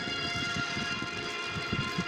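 A music track from an online royalty-free audio library plays steadily, with sustained tones layered over a regular low pulsing beat at moderate volume, with no talking.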